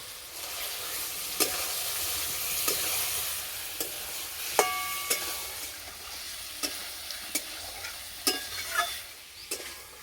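Ash gourd pieces go into a pan of frying ground cumin, turmeric and spice paste for a light fish curry, giving a steady sizzle with repeated sharp scrapes and clacks of a spoon stirring, close and moderately loud, no talking.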